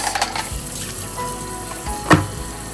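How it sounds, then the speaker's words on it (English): Water rinses a hummingbird feeder container, making a steady close splashing hiss with a brief louder clatter near the end. "When it comes to our hummingbird containers, first thing you need to do is clean it out. And basically I give it a good rinse."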